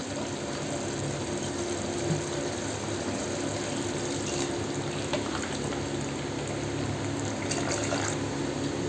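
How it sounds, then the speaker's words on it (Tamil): A steady, continuous rush of four cups of water pouring into a pot for tomato rice, close by and fairly even throughout, with no talking. "இப்போ பார்த்தீங்கன்னா தண்ணி 4 கப்பு சேர்த்துருக்குறேன்."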